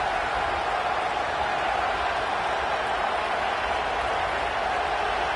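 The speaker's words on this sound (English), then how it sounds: "Now this home crowd making life difficult." Home crowd at a Notre Dame football game roaring in a steady, dense wash of cheering and applause, distant and sustained with no speech over it.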